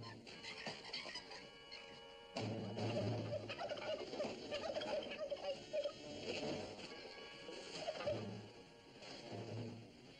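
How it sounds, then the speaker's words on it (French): A turkey gobbles repeatedly in bursts of rapid warbling calls, loud and close, over a noisy outdoor scene with a continuous low background rumble. "Ah, ma belle, bonne, grosse dinde, la voilà envolée."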